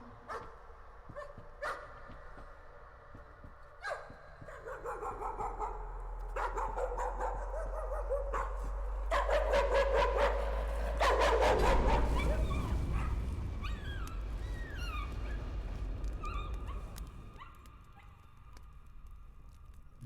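A puppy in a room gives scattered yips and whimpers, then a run of rapid, higher barks mixed with a low rumbling noise, before trailing off into a few quieter whines; fairly close.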